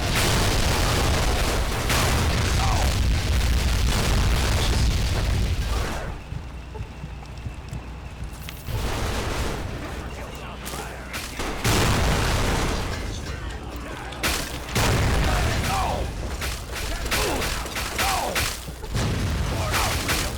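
Plasma grenades go off in Fallout 3 as a run of loud booming blasts and bursts, with gameplay noise between them and a voice occasionally talking.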